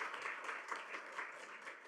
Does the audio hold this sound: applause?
yes